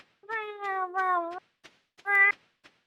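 Background music in the video game Stardew Valley built from cat meows: clear, tuned meow notes in a short phrase, a pause with soft taps, then one more bright meow.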